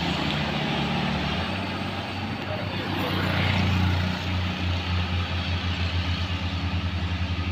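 A Hino truck labours up a steep, extreme incline on the road from Medan toward Aceh, its diesel engine a loud, heavy drone that rises and pulses as it accelerates, close by.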